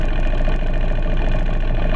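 A car engine idles loudly with its exhaust broken off, giving a deep, raw, rumbling drone that holds steady and close throughout, with no talking.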